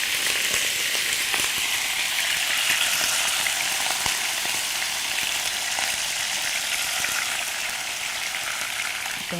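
Beef frying in oil in a home kitchen gives a dense, even sizzle throughout, close and steady with faint pops and utensil ticks, no voices.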